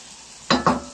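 Mussels in their shells go into a very large pot to be sautéed. Two quick, loud bursts of sizzling and stirring break out over a low background hum.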